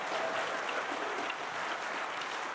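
Audience applause at a farewell address by an ambassador, an even, continuous wash of clapping from a large room, held at a steady level for the whole short stretch with no voices over it.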